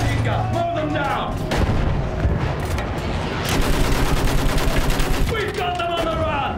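Dense battlefield gunfire from the World War I shooter Battlefield 1, with rapid bursts and booming artillery-like blasts filling the scene continuously, loud and close, intensifying midway.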